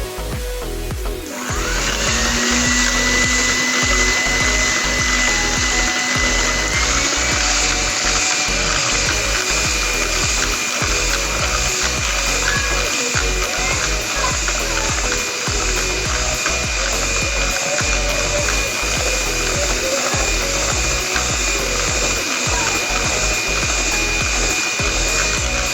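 An electric hand mixer starts up and whirs steadily through Kaiserschmarrn batter with milk, a loud, continuous motor drone with a slight rise in pitch early on, running alone for about twenty-five seconds.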